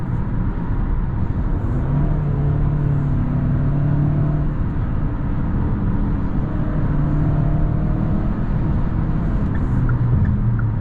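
A 2022 Hyundai Santa Cruz turbocharged pickup truck driving in the evening, its steady low engine and road drone holding level throughout with no talk.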